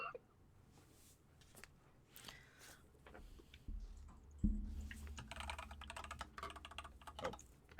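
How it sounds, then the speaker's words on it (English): Fingers type on a computer keyboard in a rapid, irregular patter of light keystrokes, close but quiet, with a low rumble of background noise rising partway through and no talk. "I can hear you typing the answer that I was about to type."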